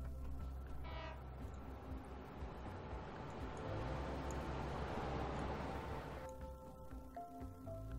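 Trains running in the Train Fever video game rumble steadily throughout, with horn toots near the start and again toward the end; there is no talking.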